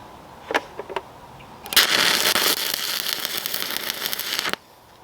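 A stick welder strikes an arc with a welding rod on a homemade trapping drag: a few sharp pops, then about three seconds of loud continuous crackling and sizzling that cuts off abruptly.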